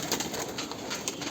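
A Sialkoti pigeon coos close by in soft repeated pulses, low and throaty, with no voices over it.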